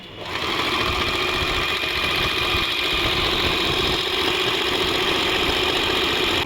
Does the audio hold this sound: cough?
no